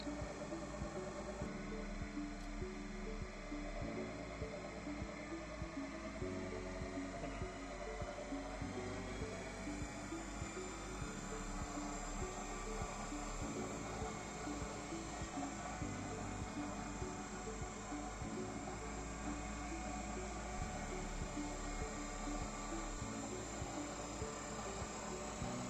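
An induction generator in a lab setup runs up toward 2500 rpm, a steady close whirring hum with rising tonal lines and a droning machine tone throughout, no break in the sound.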